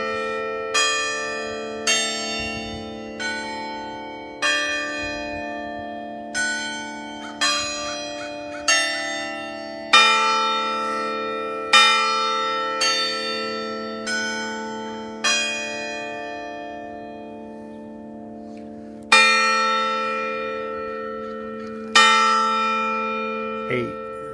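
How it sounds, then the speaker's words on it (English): A church bell tolls in a steady, unhurried rhythm, about sixteen strikes each ringing out and decaying into the next, clear and fairly close with no voices over it. "For whom the bell tolls."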